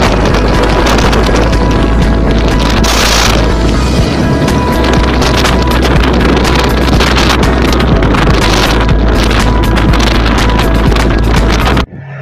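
A motorbike on a long solo ride through forest near Nizamabad, with loud, constant buffeting wind noise over the microphone that masks the engine and cuts off sharply at the end.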